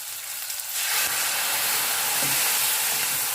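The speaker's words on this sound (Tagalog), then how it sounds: "Lagyan natin ang soy sauce." Soy sauce poured into a hot pan of pork and takway for adobo bursts into a loud, steady sizzle and hiss that holds close and constant.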